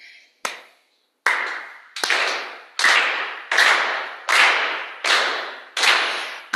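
Live audience at a poetry night clapping along to an interlude: a single clap, a short pause, then seven sharp, evenly spaced group claps in a steady beat, close and loud, with no talking.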